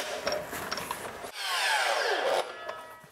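A power saw slicing through a thin wooden panel during ceiling work, a sustained loud whining cut of about a second after brief clatter, running steadily then stopping.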